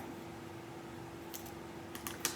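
Scissors trim the stem of a craft flower, giving a few faint, quick snips close by near the end of an otherwise quiet stretch with no talking.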